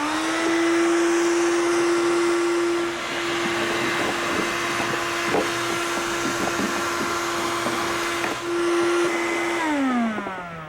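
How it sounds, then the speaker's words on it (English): A vacuum sucks leftover urethane foam out of a fiberglass boat hull during chine and balsa-core deck repair, a loud steady whine that holds for about ten seconds before the motor winds down at the end. "now what I need to do is I need to vacuum out any leftover urethane foam"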